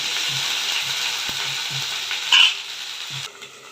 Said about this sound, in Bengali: এবার ঢ্যাঁড়সটা দিয়ে দিলাম এখনও নুন হলুদ দিইনি এটাও একটু ভাজা ভাজা হবে